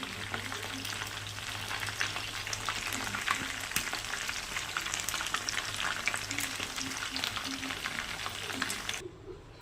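Chicken deep-frying in oil gives off a loud, continuous bubbling sizzle that stays close and steady with a low hum beneath it, then cuts off abruptly at the end.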